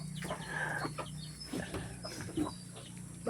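Chickens on a small Philippine farm where eggs are being laid, clucking in short, scattered calls close by over a steady low background hum, with no talk.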